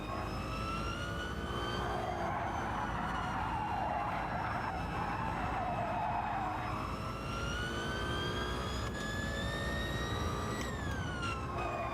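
A continuous high whine rises and falls steadily over a loud engine drone, sounding like a turbo or electric motor spooling on a Gr.1 prototype race car in Gran Turismo 7.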